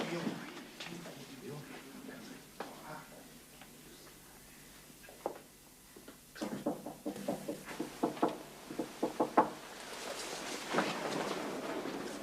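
Rapid knocking on a wooden door in an old manor gallery, a run of sharp raps growing louder and more insistent, with voices talking before and around it.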